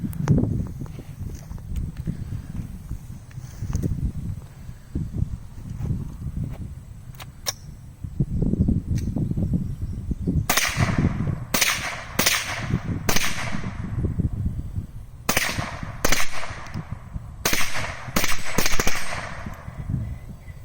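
Shots from a Winchester Wildcat .22 rifle fed from Ruger BX25 magazines: a string of sharp, cracking reports, some in quick pairs, fired outdoors at close range. Low rumbling handling noise comes before the shooting starts.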